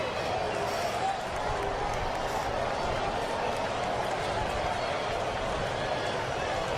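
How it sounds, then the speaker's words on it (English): Dense stadium crowd roar at a Friday night baseball game in Seattle, a steady broad wash of many voices and murmur that holds throughout without clear breaks. "Pretty good crowd on tap in Seattle here on a Friday night."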